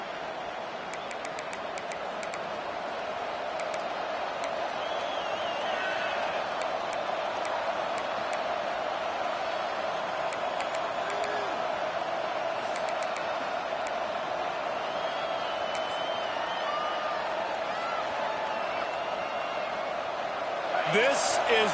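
Steady roar of a stadium crowd in an Alabama versus Tennessee college football video game, a continuous loud wash of cheering throughout, with commentary voices talking over it.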